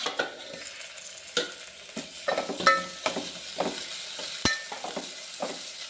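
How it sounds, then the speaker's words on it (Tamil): Ginger and garlic frying in a pan for a brinjal curry, soft sizzle under repeated scraping and clinks of a spatula stirring against metal, close and fairly quiet. "இப்போ நம்ம இஞ்சி பூண்டு இதை போட்டுக்கலாம்"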